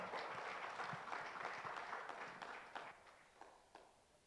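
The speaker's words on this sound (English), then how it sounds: "Please, you can clap." An audience at a parliamentary summit claps in a dense, steady wash that slowly thins out, with a few separate late claps toward the end, all heard faintly and from a distance.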